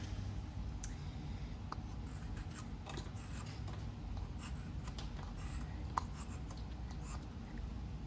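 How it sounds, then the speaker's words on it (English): A knife carves wood by hand while shaping a small hotdog gnome figure, giving a faint, steady close-up scraping and shaving texture with a few soft clicks and no talking. "We are carving down just in between those two lines on both corners that we marked the extra line."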